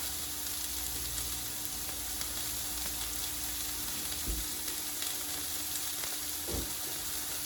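Pork and beef slider patties sizzle and fry steadily in a pan, a continuous crackling hiss with a couple of brief knocks, no voices.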